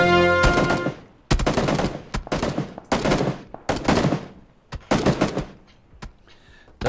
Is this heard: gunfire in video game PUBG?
yes